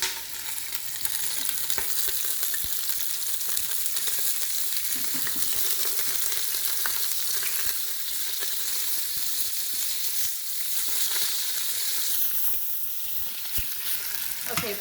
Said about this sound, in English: I'm gonna pause peeling my carrots for just a moment so that I can turn the meat